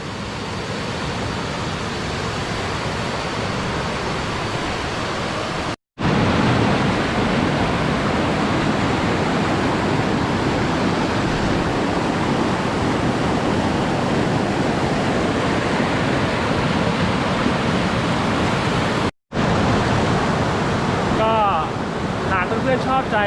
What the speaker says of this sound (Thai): ตรงนู้นก็จะเป็นทางที่น้ำลงมา ชี่ยวมากนะครับเหมือนน้าตก